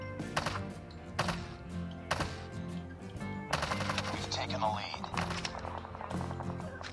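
Rapid bursts of automatic gunfire from a video game, several rattling volleys in quick succession, with a person talking underneath.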